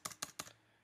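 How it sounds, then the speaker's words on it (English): Three quick keystrokes on a computer keyboard while a command is typed, close and quiet, with no talking. "you're going to type in this exactly"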